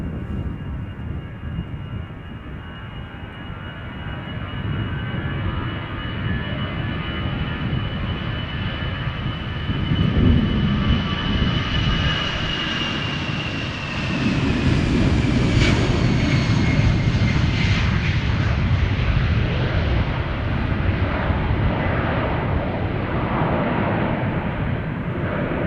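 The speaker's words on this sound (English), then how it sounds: "This is Shamrock flight 603, destination Dublin, Ireland. It's an A320." A 19-year-old Airbus A320 jet airliner operating a Shamrock flight to Dublin, heard at Schiphol Airport as a loud, steady engine roar with a high whine that swells and brightens midway, continuous throughout with no talk.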